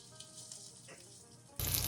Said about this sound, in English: I like the sound of the sizzle.